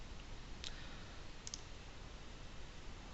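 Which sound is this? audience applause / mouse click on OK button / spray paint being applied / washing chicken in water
mouse click on OK button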